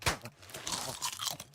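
A man chewing food messily and loudly, close up, with irregular wet crunching bursts and smacking bites in quick succession and no talk.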